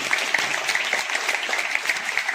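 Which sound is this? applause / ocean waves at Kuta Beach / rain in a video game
applause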